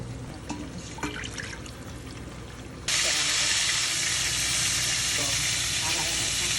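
Broth poured into a pan of frying spicy pork ribs brings a sudden loud, steady hiss and sizzle that stays strong, after quieter cooking clatter and faint talk.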